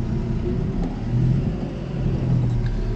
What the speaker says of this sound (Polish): Także ciągnik jest w pełni eksploatowany. Tak jest i pracuje cały czas.